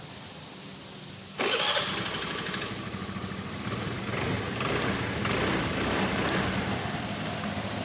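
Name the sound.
Honda Vario scooter engine starting after starter repair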